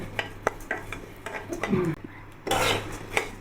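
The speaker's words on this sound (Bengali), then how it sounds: "আমি কিছু চাউল নিয়ে এগুলো বাজবো এইভাবে ভেজে" Broken rice grains dry-fried in a pan and stirred with a metal spoon: repeated sharp clinks and scrapes against the pan over a light crackle, with a louder rustling scrape near the end.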